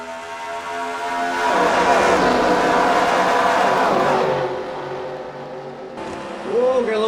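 Stock car engines in NASCAR Racing 2003 at Texas drone and rise in pitch as the pack races, a loud whining roar swelling then easing, with a fresh engine note at the end.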